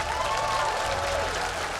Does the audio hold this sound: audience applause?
yes